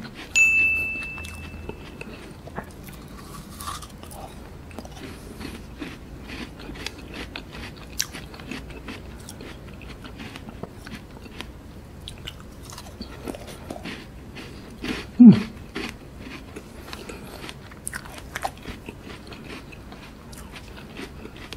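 Biting into sugar-free frozen strawberry ice cream made from fruit, giving a few hard crunching bites with one loud crack partway through, close and fairly quiet over low room noise.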